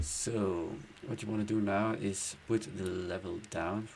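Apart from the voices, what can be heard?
None of the usual background noises is heard.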